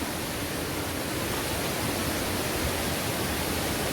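Pha Lat waterfall in Kanchanaburi, Thailand, roars as a constant, loud, broadband rush of falling water, steady and unbroken throughout with no voices.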